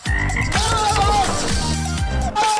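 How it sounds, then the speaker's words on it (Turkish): LEGO pull-back motor spinning fast, a loud close rattling whir with a choppy, croaking buzz that pulses and shifts in pitch before slowing near the end. "Bu aslında bir geri çek bırak motoru. Yani böyle çevirdiğinizde. Çok hızlı dönmeye başlıyor"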